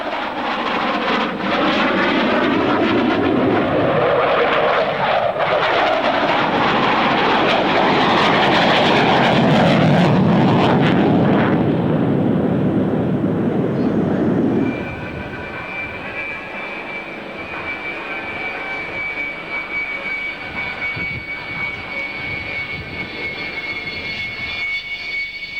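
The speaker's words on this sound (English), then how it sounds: "The F-111 is still one of the fastest jets in the sky." An F-111 jet flies at the 1997 Australian International Airshow at Avalon, its loud roaring engine swelling as it passes close overhead, then falling to a distant rumble with a thin lingering whine.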